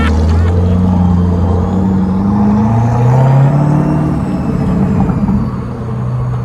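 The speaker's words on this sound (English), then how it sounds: "Yeah, you can hear that blower too." A supercharged Chevrolet Corvette C8 growls loudly from close range, its engine note rising and falling with throttle while a thin, high blower whine sweeps above the exhaust rumble.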